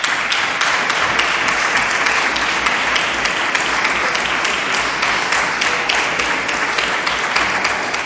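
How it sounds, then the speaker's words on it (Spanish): Standing ovation in a parliamentary chamber during a state-of-the-nationality debate, dense loud rhythmic clapping that holds steady throughout without speech. "ahí lo escuchan, la ovación cerrada ayer en ese debate del Estado de la Nacionalidad, Javier Ángel Víctor Torres"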